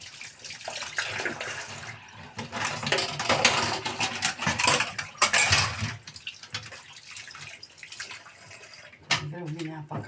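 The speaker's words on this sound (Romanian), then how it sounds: "Greu vine apa caldă și când vine fierbinte." A kitchen tap runs with splashing, uneven water noise at moderate volume and close range, in bursts as the flow changes, while someone talks at times.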